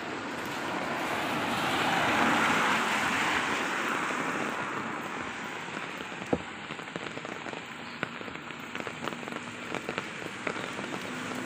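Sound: rain falling

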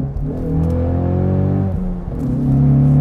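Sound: 2023 Ford Mustang EcoBoost downshifting with optional valved exhaust

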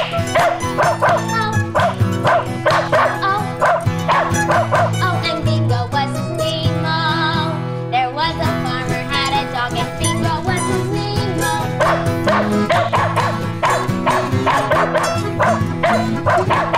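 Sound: dog barking in nursery rhyme song

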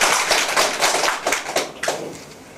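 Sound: welcoming applause from the audience

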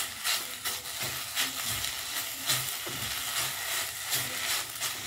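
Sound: dry roasting in a pan on the stove

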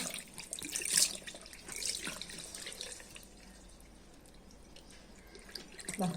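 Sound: washing a coconut shell with water

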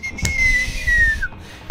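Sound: person whistling

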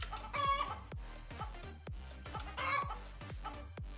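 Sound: chicken clucking in a catapult video game

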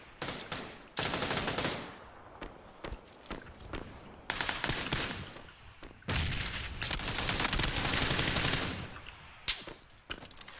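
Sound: gunfire in the video game PUBG

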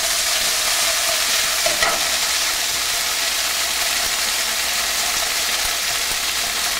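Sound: swordfish sizzling while being stirred in a pan

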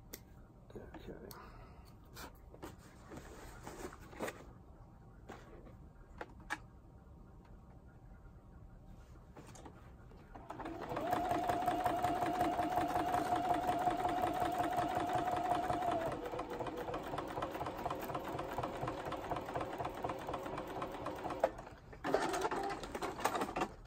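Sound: sewing machine free motion quilting

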